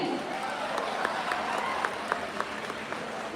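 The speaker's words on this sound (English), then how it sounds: "Tejesh and Aditya, claps for them" A small audience claps for two participants at a talk, a soft patter of scattered hand claps with a few sharper individual claps and faint voices mixed in.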